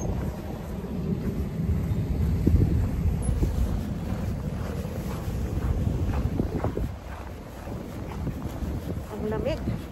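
Steady winter wind rushing and buffeting against the microphone for the full length, with faint outdoor background noise near a bus stop.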